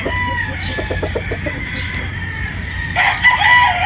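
A Boston Roundhead gamecock rooster on a game farm crows loudly and close, with clucking and other fowl noises from the yard under it and a sharp, bright call rising near the end.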